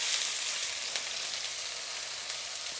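Two diced onions, about 300 grams, fry in a pan already holding browned oxtail fat, bay leaves and spices for an Indian-style curry, giving a steady, close, loud sizzle with a few faint stirring clicks.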